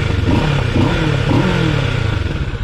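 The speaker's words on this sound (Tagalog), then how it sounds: "So yan, pakinggan natin yung stock pipe." A stock exhaust on a 2021 Kawasaki Ninja 650 motorcycle revs close by, with a steady engine note that rises and falls through a few short throttle blips over about three seconds.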